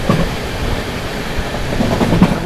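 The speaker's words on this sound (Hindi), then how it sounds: "इस वजह से मक्खनपुर में ट्रेन अपनी काफ़ी धीमे निकल रही है।" Magadh Express passenger train rolling slowly on rails through a maintenance stretch, a steady continuous rumble with faint wheel clatter, fairly close and uninterrupted by voices.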